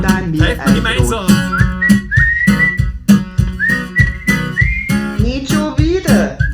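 Whistling by a group of people together, a melodic tune carried over rhythmic musical accompaniment, steady and fairly loud.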